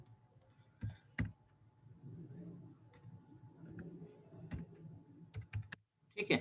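Keystrokes on a computer keyboard during a computer-applications lecture: a few sharp, isolated taps spaced out over a low background murmur, then a quick cluster of keys at the end.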